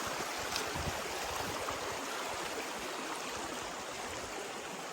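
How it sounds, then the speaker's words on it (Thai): A hillside creek runs down in two channels near a village in a mountain valley, producing a steady, close broadband rush of flowing water with no pauses. "ห้วย น้ำไหลลงมาสองสายนะครับ"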